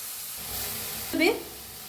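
Broad bean pods roasting dry in a hot kadhai give a short sizzling hiss that swells briefly near the end, moderately loud over quiet kitchen background.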